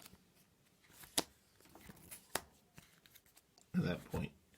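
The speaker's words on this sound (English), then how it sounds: "I draw 2 of them" Iron Helm cards are drawn and handled after shuffling, with soft scattered snaps and slides of card stock, a couple of louder flicks and a brief rustling burst near the end, close and quiet.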